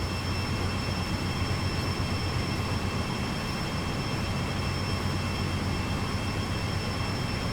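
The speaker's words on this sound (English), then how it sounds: "are currently riding an AC 4400 CW locomotive" A CSX AC4400CW diesel locomotive running on Sandpatch Grade in the hills of Pennsylvania in Train Sim World 2, heard as a steady, loud, continuous rumble and drone with constant engine hum, no talking.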